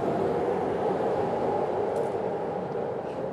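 Low steady rumble and hiss of a passenger train standing at the Bosnia and Herzegovina–Serbia border while its locomotive is swapped, a continuous drone with faint high squeaks near the end and no voices.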